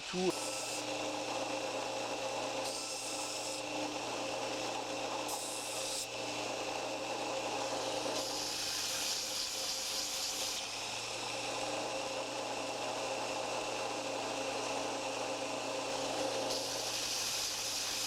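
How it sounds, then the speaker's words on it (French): A belt sander with large belts grinds a knife handle steadily and loudly throughout, its abrasive rasp rising and falling as material is pressed against the belt. "C'est une ponceuse à bande avec des grandes bandes et ça nous sert un peu à tout."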